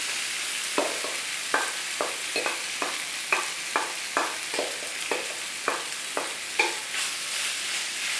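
Tofu scramble seasoned with turmeric frying in a hot wok, a soft steady sizzle punctuated by regular spatula taps and scrapes roughly every half second, close up with no talk.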